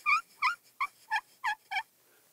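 A hen turkey's yelps imitated on a slate call, a striker scratched in circles on a slate set in a wooden or synthetic pot: six clear, evenly spaced raspy yelps, close and alone.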